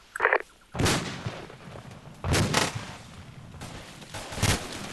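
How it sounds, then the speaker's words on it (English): Frag grenades explode in a cooperative military shooter game, with three loud blasts spaced about a second and a half apart, each followed by a rumbling tail, with no voices heard. "Throwing grenades in. Frag out."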